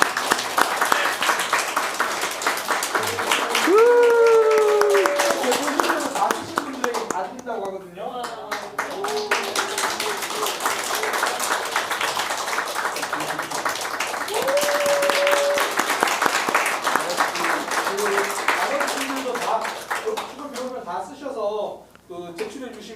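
Congregation applause during a Sunday morning church service as two members come forward for an award, steady clapping throughout with an announcer talking over it and music underneath.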